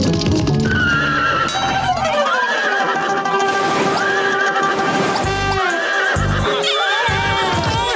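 A cartoon horse neighs in loud, drawn-out whinnies over brisk clip-clopping hooves, with a bright, close, exaggerated quality and a few sharp interjections between calls.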